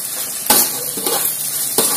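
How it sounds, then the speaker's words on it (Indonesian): Food frying with oyster sauce in a pan is stirred: a steady sizzle runs throughout, broken by a few loud scraping stir strokes of a utensil against the pan, close and without talk. "Oke, kita aduk sebentar."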